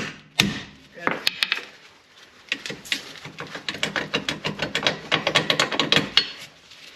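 Metal-on-metal hammering knocks out the rear strut of a 2015 Subaru Outback, a few heavy isolated strikes followed by a fast, steady run of close, sharp blows.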